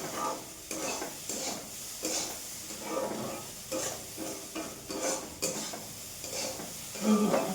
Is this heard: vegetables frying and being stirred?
yes